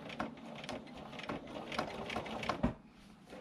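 A sewing machine stitches a quilted nine-patch table runner, a quiet, rapid, rhythmic mechanical chatter with a few faint clicks from the needle mechanism, heard close and without speech.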